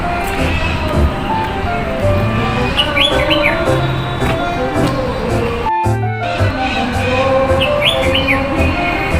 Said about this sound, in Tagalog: Sarap sa tenga ang mga huni ng ibon.